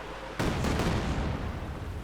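Mortar fire erupts in the Company of Heroes 2 strategy game, a sudden loud blast that then rumbles and decays over about a second and a half, with no talk.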